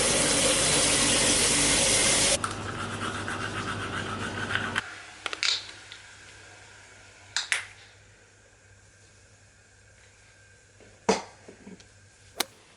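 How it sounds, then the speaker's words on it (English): Water runs steadily from a sink tap for a few seconds and then stops, followed by a quiet room with scattered faint clicks and knocks. "I just brushed my teeth"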